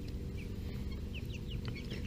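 Young chickens in a new coop give soft clucks and brief high peeps scattered over a constant low hum, with several birds calling close by.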